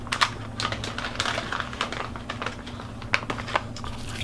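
Small foil or paper antiseptic towelette packets are torn apart and dropped into a plastic bag, making a quiet run of irregular crinkles and clicks up close.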